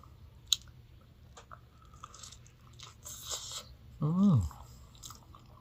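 Close chewing and biting of ripe durian fruit during the Lao-Isan durian season, soft wet crunches and mouth sounds in short bursts, with a brief vocal exclamation near the end.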